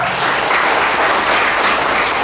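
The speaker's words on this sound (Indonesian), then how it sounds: "Nah, tepuk tangan buat kita semua ya" A loud, dense burst of applause comes from an audience at a political school session in Bandar Lampung, with steady clapping filling the whole stretch.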